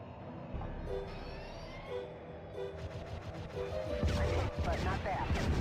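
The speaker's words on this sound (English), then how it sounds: "The train is slowing down." A train in Star Wars Rogue Squadron 3 slows on its rails in the game, with rumbling wheels and metallic whines under a constant engine drone that grows louder and rougher toward the end.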